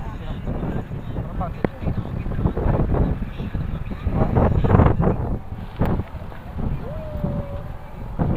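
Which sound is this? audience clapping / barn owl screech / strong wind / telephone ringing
strong wind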